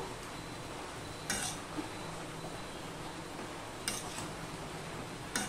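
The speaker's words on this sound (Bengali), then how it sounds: "ভালো করেই মিশিয়ে দিতে হবে।" Papaya curry without onion or garlic is stirred in a pan, with a few scraping strokes of the spoon against metal spaced apart over a steady sizzling hiss.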